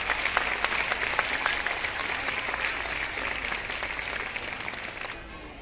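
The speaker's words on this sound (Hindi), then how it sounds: "एक बार फिर जोर से तालियां सुनता हूं।" Sustained loud applause from a crowd at a school talent event, dense steady clapping that holds for several seconds before dropping off sharply at the end.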